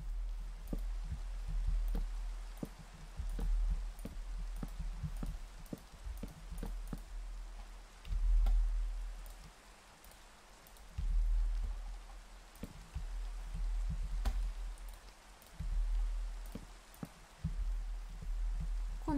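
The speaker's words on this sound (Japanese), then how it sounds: "雨やだな、暗い。" Minecraft rain hisses softly and steadily in the background while irregular low thumps and soft footstep-like taps come and go on top, fairly faint overall with no voices.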